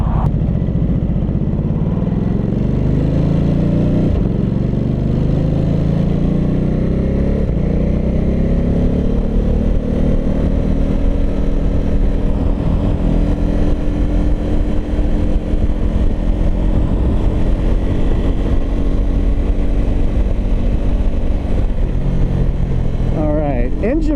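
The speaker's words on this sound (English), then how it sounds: "I'm keeping this in third gear to kind of feel the engine braking." A 2022 Ducati Supersport 950 engine drones continuously up close in third gear, its pitch sliding as the revs drop and rise under engine braking, with wind noise throughout.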